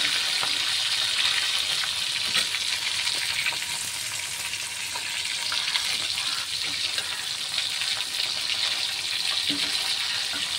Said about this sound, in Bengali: উল্টে পাল্টে ভেজে নিচ্ছি।